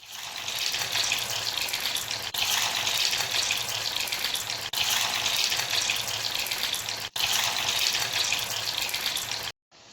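Muthiya dumplings for undhiyu dropped into hot oil, giving a steady close sizzle and bubble with brief dips, then cutting off at the end.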